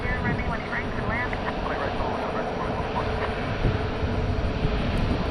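An airliner's engines roar steadily at a busy airport, a broad sustained rumble and whine that holds level throughout with no gaps.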